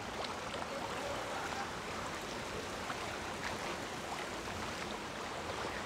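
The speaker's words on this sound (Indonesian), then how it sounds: "Ini sistem air deras" Steady, loud rushing water flows continuously through a flow-through red tilapia pond system with filter screens in the hills of Subang, Kecamatan Cijambe. The sound is broad and unbroken, with no voices.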